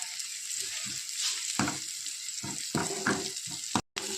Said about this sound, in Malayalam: നമുക്ക് മുരിങ്ങയുടെ ഇല ഇട്ട് കൊടുക്കാം നന്നായി ഇളക്കാട്ടാ